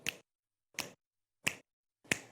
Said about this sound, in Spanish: También vamos a utilizar chasquidos.